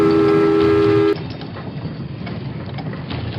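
A train travelling toward the Polish border rumbles steadily, opening with a sustained tonal whistle or horn-like drone that cuts off abruptly, leaving a continuous loud rolling noise of wheels and carriage.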